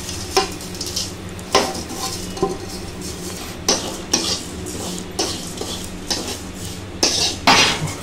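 Flattened rice is stirred into a pan of fried curry leaves, with a spoon scraping and clinking against the metal in several sharp strokes over a soft sizzle, close and with no talking.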